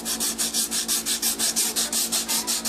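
Used sandpaper scuffing the surface of a model railroad road, a close, steady back-and-forth rubbing in about fourteen even strokes, with no voices.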